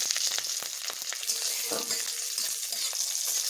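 Green chillies, garlic and black cumin seeds frying in oil: a steady, bright sizzle runs throughout, close and even, with faint crackles and stirring scrapes and no talking.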